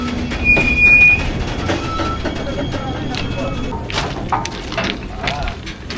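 A freight train rumbles along the rails with a steady rolling clatter and occasional high squeals, fairly close and continuous throughout, near Dudhsagar Waterfall in the monsoon.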